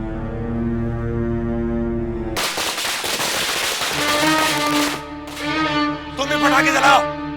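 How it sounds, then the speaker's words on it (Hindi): Firecrackers go off suddenly after a sustained tone, a loud burst of crackling followed by further rapid pops, with music and voices mixed in. "तुम भी पटाखे जलाओ, जलाओ।"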